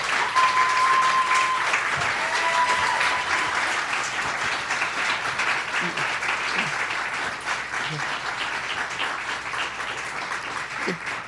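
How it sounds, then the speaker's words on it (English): Steady, full applause from an auditorium audience at the Brockton High School senior awards ceremony, honoring students as they stand, sustained and fairly loud for about eleven seconds with a slight easing toward the end. "Can we just give them a round of applause?"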